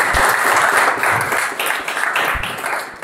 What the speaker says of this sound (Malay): Berikan tepukan kepada semua.